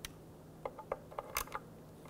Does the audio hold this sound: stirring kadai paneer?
no